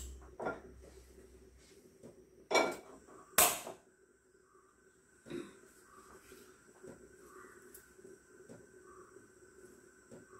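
A metal pan for frying mustard seeds set down on a kitchen stove, a few sharp knocks and clanks spaced out over a quiet background.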